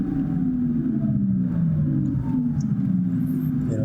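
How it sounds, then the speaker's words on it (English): Porsche Taycan electric car driving in Sport Plus mode, its synthetic motor sound a low steady hum with faint rising and falling tonal lines over road rumble, fairly close and continuous. "The sound from the electric motor"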